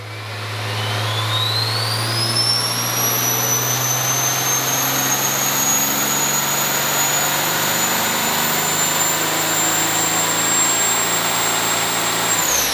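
An engine making 725 horsepower runs a wide open throttle pull on a dyno, simulating heavy trailer towing: a loud, steady roar with a rising whine that climbs, then holds for about ten seconds before cutting off.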